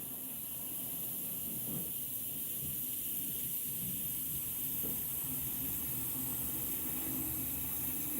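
An airbrush sprays paint from about two to three inches onto a swimbait lure being painted in a koi fish pattern, giving a steady, unbroken airy hiss that carries on evenly throughout.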